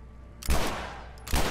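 Gunfire in the video game The Last of Us: two loud, sharp blasts about a second apart, each with a brief booming tail, cutting into a quiet background.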